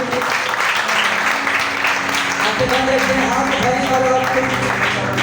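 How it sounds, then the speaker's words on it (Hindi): Congregation applauding loudly at a Christian blessing meeting in Lahore, sustained clapping throughout, with music or voices rising underneath partway through. "जोरदार तालियां बजाएंगे"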